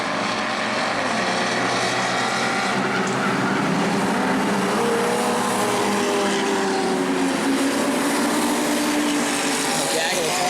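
Race cars at the New Smyrna enduro roar continuously through turn four, a loud, dense wash of engine noise with shifting engine tones and a voice mixed in.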